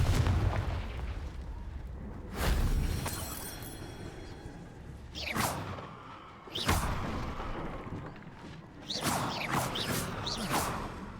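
Spell blasts in the Hogwarts Legacy game go off during target practice, several sharp booming impacts spaced a few seconds apart over a low ambient rumble.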